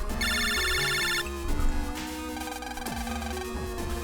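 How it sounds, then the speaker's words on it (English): A phone rings in Mega Man Battle Network 3, a bright electronic ringtone chirping in a quick repeated burst over steady game background music. "it's a phone call"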